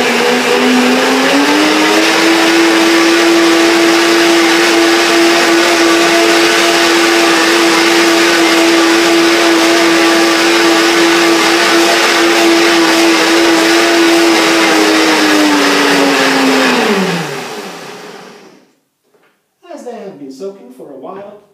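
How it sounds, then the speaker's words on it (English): Blender whirring through dates and a little water to make a mousse, a loud steady motor whine for about seventeen seconds that winds down and stops, followed by brief clattering handling. "I put 20 dates in here, a little bit of water in my blender, and I will quickly make it a mousse."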